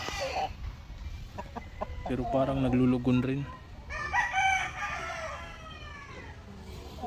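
A large, full-bodied rooster on a farm crows once in a loud, drawn-out call with harmonic bands, while someone talks before and after it.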